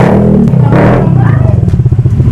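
A Click 150 motorcycle engine with an ECU remap rumbles loud and close, its rough low throb pulsing faster and more unevenly toward the end.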